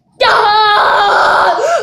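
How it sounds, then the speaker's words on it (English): A person's loud, sustained scream bursts in suddenly and holds for over a second and a half, alone and close. "Let's roll the clip of the time when I screamed."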